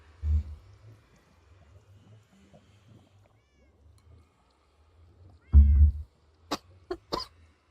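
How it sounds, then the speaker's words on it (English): A person coughs twice during a Minecraft livestream, one short cough near the start and a louder, fuller cough later, followed by a few small clicks in an otherwise quiet room. "I should also mute myself before I cough, because that was potentially loud."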